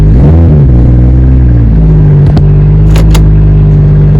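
A big-turbo 2JZ-engined Lexus GS300 idles loudly up close, with a low, steady engine drone that dips and shifts briefly as it pulls away in first gear, plus a couple of faint clicks.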